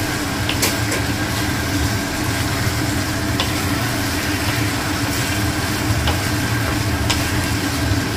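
Garam masala and Mayapur ghee sizzle steadily in a pan while being stirred, a continuous close frying hiss with occasional clinks of the spoon.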